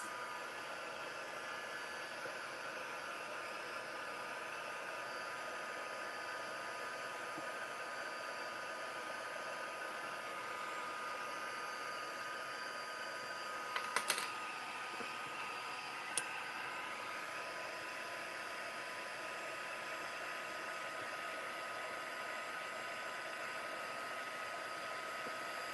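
A hair dryer blowing to dry paint on crafted letters, a steady close whooshing drone lasting throughout with a couple of brief clicks partway through and no talking.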